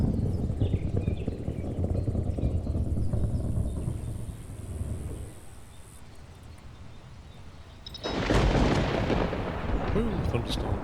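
Thunderstorm in Stranded: Alien Dawn: a deep, rolling rumble of thunder fades into a quieter lull, then a loud crack of thunder bursts in and rumbles on with rain-like hiss.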